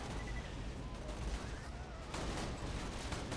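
Dense, continuous gunfire and explosions from the Borderlands 2 video game form a loud, unbroken wall of battle noise throughout.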